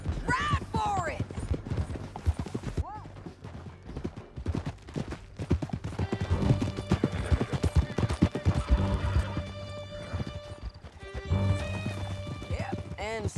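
Horses gallop in Red Dead Redemption 2, with a steady clip-clop of hooves running under loud game music and occasional talk, and a brief whinny near the start.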